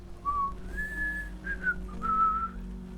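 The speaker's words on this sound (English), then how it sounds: "Whenever you were happy, you'd whistle a big strong" A person whistles a clear, strong tune of several sustained notes with short pitch glides between them, close to the microphone, with no talk over it.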